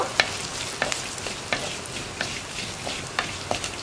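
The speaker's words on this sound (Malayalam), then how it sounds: "ഇതെല്ലാം ചേർത്ത് ഒന്നും കൂടി ഒന്ന് ഇളക്കി ചൂടാക്കി എടുക്കുക." Ground cumin and fenugreek are stirred in a hot pan, a soft steady sizzle broken by regular light scrapes of a spoon against the pan, close and without talk.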